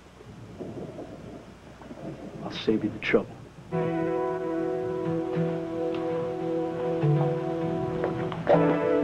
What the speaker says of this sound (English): Come on, it's a storm outside.